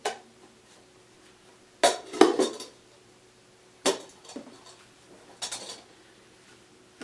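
Metal camp cookware clinks and clatters in four short bursts, bowls and a pan knocking together, with quiet pauses between.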